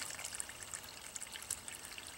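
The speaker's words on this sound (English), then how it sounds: "we'll continue to pour water in there" Water is poured steadily into a hole in the ground for an infiltration test, giving a faint, continuous trickle and splash heard alone.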